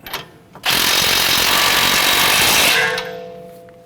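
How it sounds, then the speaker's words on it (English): An impact wrench tightens the front strut nut on a 2009-2015 Honda Pilot, producing one loud, close, continuous rattling burst of about two seconds that then winds down, with no talking. "Let's go ahead and tighten down this nut."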